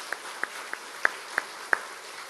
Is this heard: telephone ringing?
no